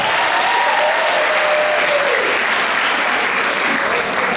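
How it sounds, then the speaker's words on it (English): A convocation audience bursts into loud, sustained applause, a dense, even roar of many hands clapping without pause. "Give her a round of applause."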